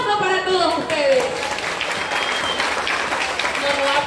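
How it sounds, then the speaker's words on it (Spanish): Rally audience applauding steadily at a Ngäbe Buglé and peasant gathering in Panama, broad clapping wash with a voice shouting over it throughout. "¡Aplauso para todos ustedes!"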